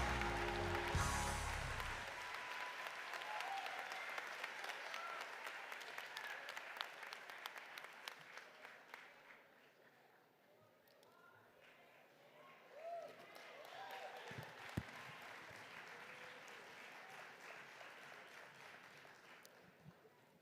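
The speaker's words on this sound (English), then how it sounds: "the BSU Concert Choir, let's give them a round of applause." Applause from a commencement crowd at Bowie State University's winter graduation for the BSU Concert Choir, a sustained dense wash of many clapping hands that swells, thins midway and picks up again, with some voices mixed in.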